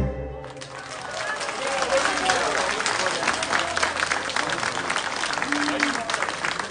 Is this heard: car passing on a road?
no